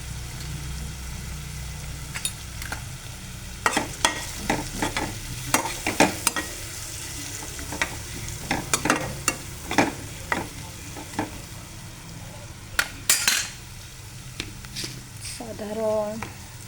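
Sliced onion is sautéed in a pan with asafoetida and turmeric for a poha dish, giving a soft, continuous sizzle broken by repeated sharp scrapes and clinks of a stirring spoon, with no talking over it.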